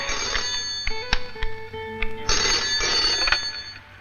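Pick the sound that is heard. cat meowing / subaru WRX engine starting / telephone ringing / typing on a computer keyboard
telephone ringing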